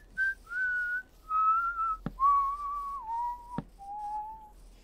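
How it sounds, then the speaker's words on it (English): A person whistles a melodic tune in clear sustained phrases, close and fairly loud, with two sharp clicks breaking in partway through; no talking. "Hey, who's whistling? They got a nice tune going on."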